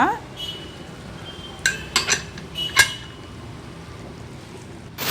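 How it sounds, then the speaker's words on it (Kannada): A pressure cooker lid being closed over a chicken sambar batch, heard as a few sharp metallic clanks and clinks in quick succession, close and fairly loud, with a final knock at the end and no talking. "ಕುಕ್ಕರ್ ಮುಚ್ಕೊಳ್ಳೋಣ."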